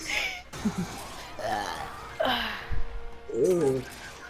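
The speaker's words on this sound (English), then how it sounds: "That was a sexy burp." A throaty burp amid lively talk and chuckling from several people nearby.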